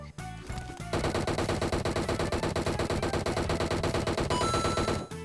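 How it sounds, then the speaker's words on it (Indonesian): Sustained automatic gunfire from PUBG Mobile, a fast even rattle of shots running for about four seconds after a brief lead-in, loud and close, ending abruptly. "Gue nembak juga loh."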